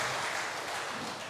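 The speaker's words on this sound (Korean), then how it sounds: "하나님께 영광의 박수 함께 올리겠습니다." Congregation applause during a Sunday church service, a brief steady wash of clapping at moderate distance with no voices over it.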